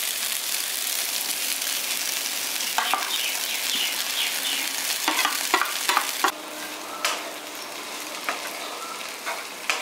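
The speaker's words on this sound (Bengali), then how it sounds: "এবার সোয়াবিনের কিমাটা দিয়ে দিচ্ছি।" Soybean mince tipped into a hot spiced pan and stirred, giving a steady close sizzle and frying hiss with scraping stir strokes and a few sharp clatters of the utensil against the pan.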